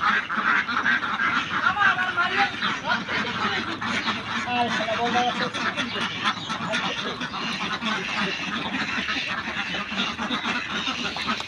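Laying ducks being fed dewormer medicine mixed into their feed and water, with a dense flock quacking steadily throughout and people talking over them.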